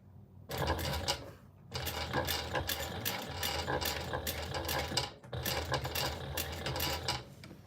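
A sewing machine stitches a Rosie sling in close, fast mechanical bursts, running steadily with a few short pauses between runs of stitching.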